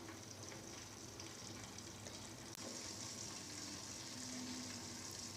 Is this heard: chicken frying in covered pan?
yes